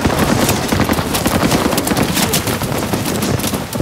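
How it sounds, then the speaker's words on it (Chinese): Dense machine-gun fire from a war film, many guns raking continuously in a loud, unbroken roar of overlapping bursts with no pauses. "起码30挺机枪疯狂扫射"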